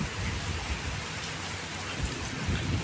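Steady rain falls in a May thunderstorm at Khadpoli, a dense, even hiss with low thunder rumbling underneath, and no voices.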